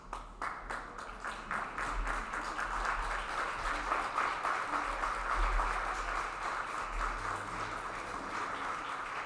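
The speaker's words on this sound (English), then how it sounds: "Let's all stand up and give him a big round of applause." Fairly faint applause rises from an audience at a Disability Mentoring Day kickoff reception and settles into steady, continuous clapping with a low rumble beneath it.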